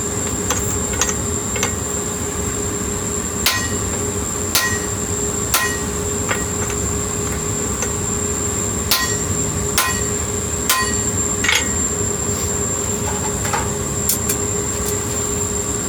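Sharp metallic hammer blows on a punch driven into steel, punching a hammer eye by hand, ring out at irregular intervals, roughly a dozen over a steady mechanical hum, each strike loud and close.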